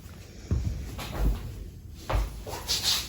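A kitchen drawer or cupboard is pulled open to get chips, making a few wooden knocks and sliding thumps at an uneven pace, close by. Faint background noise sits underneath.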